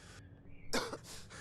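A character in the Fallout 4 video game coughs, with a short, sharp cough and throat clearing heard close and clear after a brief quieter stretch.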